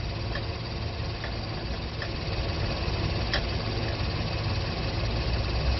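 A Honda Odyssey engine idles steadily and close by during a transmission fluid change, a constant low rumble with faint periodic ticking.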